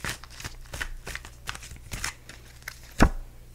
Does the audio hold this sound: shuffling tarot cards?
yes